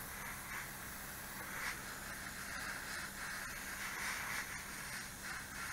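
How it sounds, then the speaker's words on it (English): Airbrush spraying black paint onto the propeller of an Airfix 1/72 Supermarine Spitfire Mk1a model, a steady close airy hiss with slight pulsing over a low background hum throughout. "The prop, while I've got the black in the airbrush, save time,"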